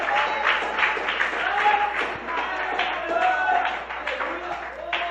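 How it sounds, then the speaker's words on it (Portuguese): A church congregation claps joyfully for Jesus during a service, a steady mass of hand claps blended with crowd murmur and voices throughout. "batendo aquelas palmas bem alegre para o Senhor Jesus"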